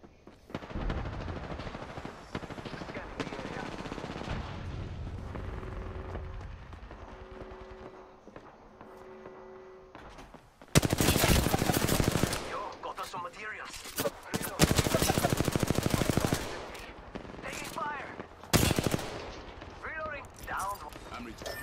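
Rapid bursts of automatic gunfire from Apex Legends, loud and close, firing in several dense volleys with short gaps, mixed with game effects and someone talking over parts of it.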